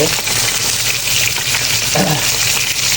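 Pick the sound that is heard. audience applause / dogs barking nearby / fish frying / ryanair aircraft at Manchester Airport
fish frying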